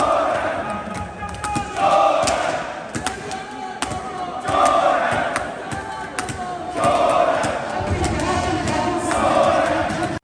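Protesters chant slogans inside the Punjab Assembly, a crowd of voices rising in loud rhythmic bursts every few seconds with brief dips between, echoing through the chamber.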